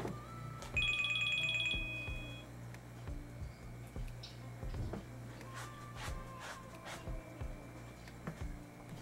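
A mobile phone ringtone rings during a misc item haul, a bright repeating electronic melody that rises clearly for about two seconds over low steady background hum, followed by scattered handling clicks.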